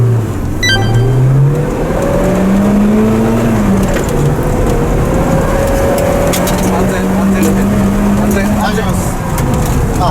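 Mitsubishi Pajero Mini on the road, heard from inside: a loud, close engine drone rising and falling in pitch as it revs through the gears, with continuous road and wind rumble underneath.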